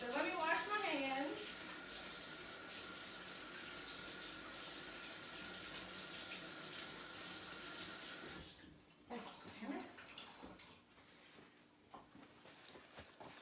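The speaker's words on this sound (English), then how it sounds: "So let me wash my hands." Hands being washed under a running kitchen tap, water flowing steadily and fairly loud for about eight seconds, then stopping, with soft kitchen sounds and a brief voice afterward.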